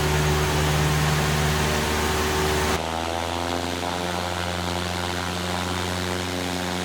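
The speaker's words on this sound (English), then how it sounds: "Check out our plane in flight." A propeller plane in Microsoft Flight Simulator X drones with a steady, loud, buzzing engine tone, and partway through the sound abruptly shifts to a smoother hum as the view changes. No one speaks.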